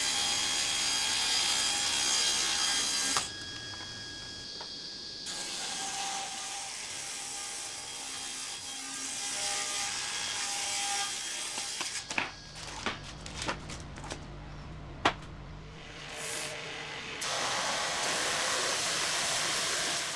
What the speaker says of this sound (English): I've put a thin kerf ripsaw blade on the table saw, which lets me get 3 pieces from each board.